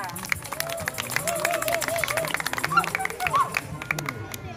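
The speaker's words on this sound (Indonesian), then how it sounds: "Kasih aplaus buat remaja pemuda" Applause and cheering from a church congregation for the youth group at a Saturday service, a steady mass of clapping with excited voices and chatter mixed through it.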